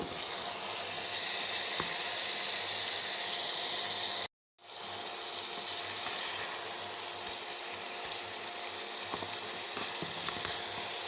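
Cauliflower fries with spices in a pan, giving a loud continuous close sizzle that cuts out for a moment partway through before resuming, with a few faint stirring knocks.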